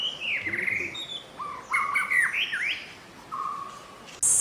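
A white-rumped shama in the Western Ghats sings a series of clear, varied whistled phrases and chirps at a bird hide, loud and close with short pauses between notes.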